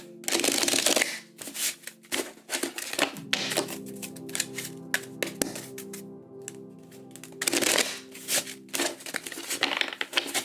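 Tarot cards shuffled by hand in several bursts, crisp riffling and snapping clatters separated by pauses, close and fairly loud, with a low hum in the gaps.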